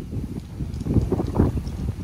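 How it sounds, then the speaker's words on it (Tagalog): Gusty outdoor wind buffets the microphone in a steady low rumble that swells and eases in gusts, with no voices. "For the first time, may hangin na ganito."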